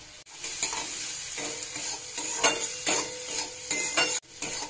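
Spice mixture with salt and a pinch of sugar stir-fried together in a pan for eggplant bharta, a steady sizzle broken by repeated scraping strokes of a spatula, close and fairly loud, with no talking.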